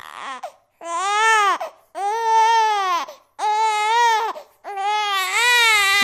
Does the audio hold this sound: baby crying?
yes